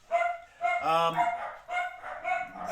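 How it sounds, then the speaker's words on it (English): Several dogs bark excitedly at the arrival of a postman, with a run of close, loud yelps and barks coming in bursts. "that's the postman and that excites the dogs"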